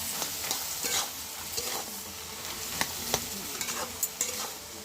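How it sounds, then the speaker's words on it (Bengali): Bottle gourd with green chillies frying in a pan, stirred with a utensil: a steady soft sizzle with irregular light scraping and tapping strokes, close and fairly quiet. "লাউ থেকে যেহেতু অনেকটা জল বেরোয়, তো সেই জন্য এটাকে ভালো করে আমি আগে নেড়ে নিচ্ছি ভালো করে"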